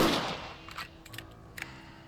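A single rifle gunshot in Red Dead Redemption opens with a sharp crack and fades into faint, scattered echoes.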